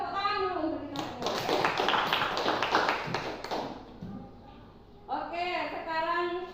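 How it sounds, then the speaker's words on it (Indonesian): Classroom hand clapping rings out for about two and a half seconds, a burst of quick claps between stretches of a teacher's speech. "tepuk tangan dulu untuk kita semua"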